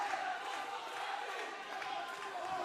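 Dense, steady crowd roar fills a fight arena during a PFL bantamweight title main event between Justin Arteaga and Ernesto Suarez, a continuous wall of voices and cheering with no clear breaks.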